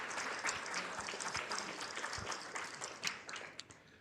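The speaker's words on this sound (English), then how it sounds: "let's give a round of applause to both the EPIC people and the alums" A small audience at an alumni panel event applauds attendees and alums: scattered, fairly quiet clapping with distinct individual hand claps standing out against a steady patter.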